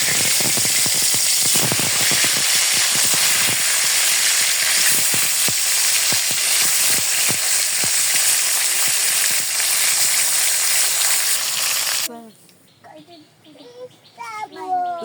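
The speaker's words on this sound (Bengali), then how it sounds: "এখন আমি মাছ ভেজে নিব।" Pangas fish fries in hot oil with a loud, close, steady sizzle full of crackling pops that stops abruptly near the end, followed by brief talking.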